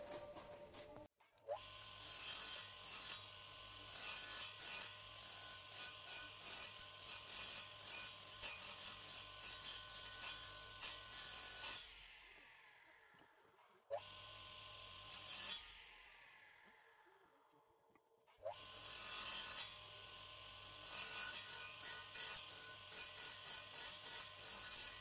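A hand saw cuts notches into a two-centimetre wooden piece for a handmade wooden toy, with steady back-and-forth rasping strokes in long loud runs that break off for a few seconds and then resume.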